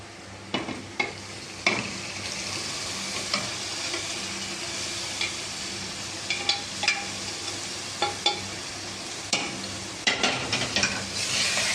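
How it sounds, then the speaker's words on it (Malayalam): Cooked camel meat stirred into curry masala in a pan, continuous soft sizzle with irregular clinks and scrapes of a spoon against the pan, close by and without voices. "ഇതിലേക്ക് നമുക്ക് വെന്തിരിക്കുന്ന ഒട്ടകയിറച്ചി ഇട്ട് കൊടുക്കാം"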